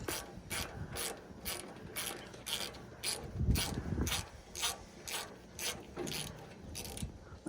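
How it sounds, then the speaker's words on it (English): An inverted torque socket on an impact or ratchet tool drives stubborn bolts out of a truck, a rapid series of sharp rattling clicks and mechanical grinding at close range with no talk. "you got to have one of these like inverted torque sockets or whatever the hell they are, and just drive them out"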